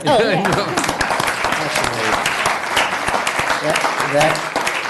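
Applause from the audience at a county board of supervisors meeting, a dense burst of clapping that starts at once and keeps going, with people talking and calling out over it.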